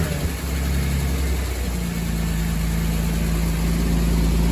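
A Porsche Cayman S twin-turbo engine, on its first start, idles loudly and steadily with a deep, rumbling drone, close by and constant.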